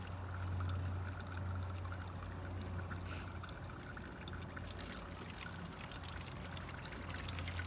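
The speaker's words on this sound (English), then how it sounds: "My last experiment will show what happens when water is poured over grass." Water poured steadily over grass and soil in an erosion experiment, a continuous close splashing trickle lasting several seconds with a low steady hum beneath and no voices.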